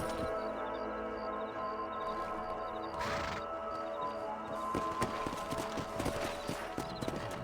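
Horse hooves clip-clop at a walk in Red Dead Redemption, a steady rhythm of soft thuds over constant game ambience, with a brief whinny-like burst partway through and no one talking.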